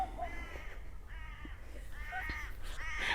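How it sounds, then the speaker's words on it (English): Several crows cawing outdoors, harsh repeated caws in irregular bursts, moderately distant and fairly faint over a low background rumble, with no one speaking. "All right, so there are some crows over there."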